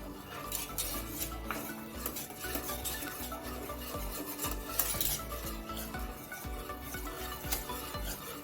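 White sauce for pasta thickens in a pan under continuous stirring, soft scraping and clinks of a utensil against the pan with a faint bubbling underneath, quiet and close, no voices.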